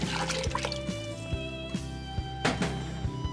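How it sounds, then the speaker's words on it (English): A quart of tomato juice pours into a pot of chili, giving a steady close liquid stream with drips and splashes over a faint tonal background. "now we're going to put in our quart of tomato juice"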